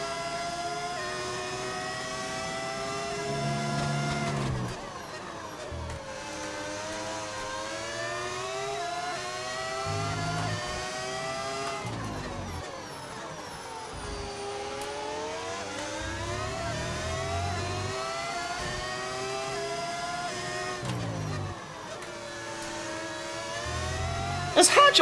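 Formula 1 car engines in the racing game F1 25 whine high and wail through repeated upshifts and downshifts, loud and continuous, with a speaker talking over them.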